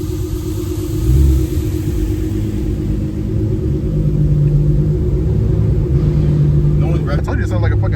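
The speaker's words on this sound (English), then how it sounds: "I told you it sounded like a fucking turbo diesel." A BMW F10 with an aftermarket downpipe drones low and steady inside a tunnel, its rumbling exhaust echoing continuously and growing slightly louder midway, with people talking over it.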